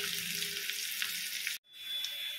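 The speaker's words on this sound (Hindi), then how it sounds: "ये देखिए, इसको पलटते हुए हमें फ्राई कर लेना है। जब तक ये फ्राई होता है" Jackfruit pieces frying in hot oil, a steady bright sizzle that briefly cuts out then resumes, close and moderately quiet with no talk.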